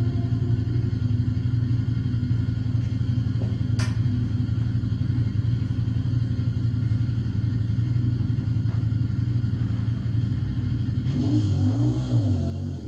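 A Honda VFR 400 NC30 motorcycle engine idles at a steady, close rumble, holding an even low drone for the whole stretch before a brief rise in revs near the end.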